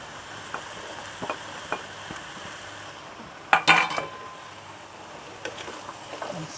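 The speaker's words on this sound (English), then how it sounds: "And stir it." Potato and leek stir-fried in a pot as the start of a potato leek soup, a soft steady sizzle broken by several scrapes and clanks of a utensil against the pot, with no talking.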